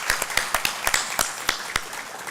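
A small audience at a university welcome ceremony claps in scattered, distinct sharp claps rather than a dense roar, fairly close and moderately quiet, with no voices over it.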